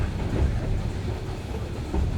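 A heritage passenger train on the Strasburg Rail Road rolls along at just under 60 mph, a loud steady rumble with faint rhythmic clacking of wheels on track.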